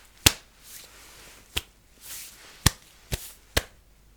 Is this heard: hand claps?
yes